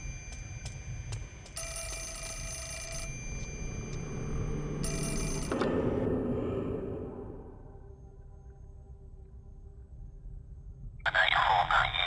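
A phone rings in the horror video game Fatal Frame 4: Mask of the Lunar Eclipse, with two bursts of electronic ringing over a low ambient drone, followed by a swelling rumble and a sharp bright sound near the end.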